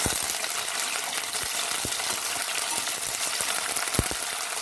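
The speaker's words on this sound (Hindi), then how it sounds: "और इसे हम थोड़ी देर भून लेते हैं।" Drumstick (sahjan) pieces frying in a pan, giving a steady dense sizzle with scattered small pops and crackles throughout, close and moderately loud with no talking.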